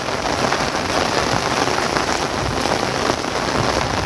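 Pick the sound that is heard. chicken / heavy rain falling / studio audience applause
heavy rain falling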